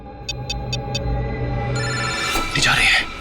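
A telephone ringing in four quick electronic trills, followed by sustained tones, while people talk over it.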